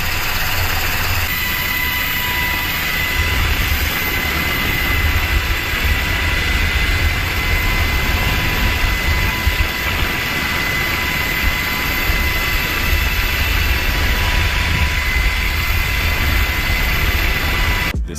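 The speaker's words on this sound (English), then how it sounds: "This helicopter delivering medical supplies to a cruise ship in the middle of the ocean." A helicopter delivering medical supplies to a cruise ship far out at sea drones loudly and continuously, a steady engine and rotor roar with a faint whine above it.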